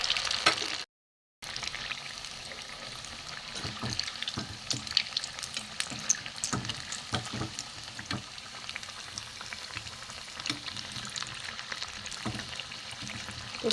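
Peas-filled kachori deep-frying in plenty of hot oil, two at a time, browning to a reddish colour: a steady, dense bubbling sizzle with crackling pops, close and continuous after a brief dropout near the start.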